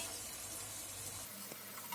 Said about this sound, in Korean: 썰어 놓은 마늘을 팬에 넣어 같이 구워줍니다.